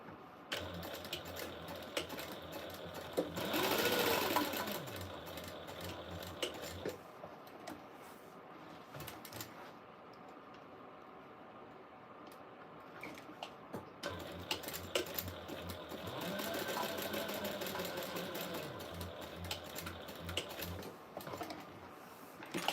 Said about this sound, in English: I'm gonna sew 1/8 of an inch down both sides